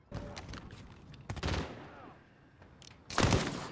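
Gunfire in a video game: several sharp bursts of rapid shots, loud and close, separated by short gaps, with a heavier volley at the end.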